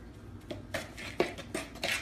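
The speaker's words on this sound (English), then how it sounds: "Okay, now stir it all up really well." A child's homemade bath bomb mixture is stirred in a bowl: faint, irregular clinks and scrapes of a utensil against the bowl, a handful of light taps spread over two seconds.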